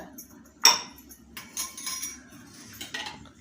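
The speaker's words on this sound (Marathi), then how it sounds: "एक तीन चमचे दही घेतले असं फेटून घेऊया जरा" Quick metallic clinks and scrapes of a spoon whisking yogurt in a bowl, a sharp knock followed by lighter irregular stirring taps, close and fairly quiet.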